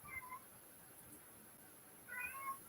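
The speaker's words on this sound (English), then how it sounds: "Hold on, my cat won't shut the fuck up." A house cat meows twice, once at the start and again near the end, thin and fairly faint against a quiet room.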